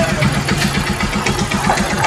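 Bajaj Pulsar 125 BS6 motorcycle engine idling steadily around 900 RPM, a loud, close, even mid-pitched putter with a regular pulsing beat and no other sounds.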